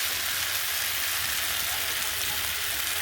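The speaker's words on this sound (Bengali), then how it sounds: "কচু আর বেগুন দিয়ে কষানো হবে" Taro and eggplant fry in hot oil in a home kitchen for a Bengali fish curry, giving a steady, dense sizzle that holds close and even throughout.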